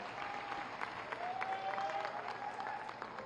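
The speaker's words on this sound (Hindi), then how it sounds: "जोरदार तालियों के साथ उनका अभिनंदन करें।" Crowd at a village public event in Akbelpur, Azamgarh applauding to welcome the chief minister, a steady, distant wash of clapping with a faint tonal whistle or feedback line running through.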